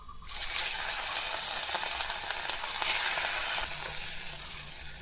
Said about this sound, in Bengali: একটু কড়া করে ভাজলাম